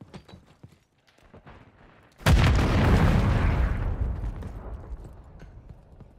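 Grenade detonating in Modern Warfare 3 on PlayStation 5: a sudden loud, close boom after a few quieter thuds and clicks, followed by a broad roaring decay that fades over several seconds.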